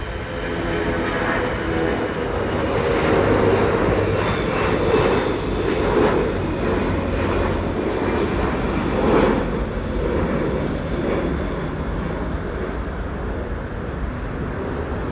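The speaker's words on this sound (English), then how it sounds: "What a perfect takeoff. So guys, that's the 777-300ER of Air India from Vancouver." An Air India Boeing 777-300ER takes off at Delhi Airport, its jet engines giving a loud, steady, broadband roar that holds for the whole stretch and swells slightly in the middle.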